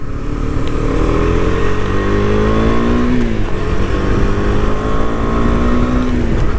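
A Husqvarna Svartpilen 250 motorcycle accelerates hard, its engine note climbing steadily through the revs, dipping briefly on a gear change, then rising again, loud and close throughout with no talking.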